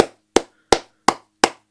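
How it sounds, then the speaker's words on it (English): Five sharp, evenly spaced hand claps from a single person, given as a farewell to a player leaving the Red Bull Arena, each one crisp and close with quiet gaps between. "We'll give him a clap just in case for a farewell from the Red Bull Arena"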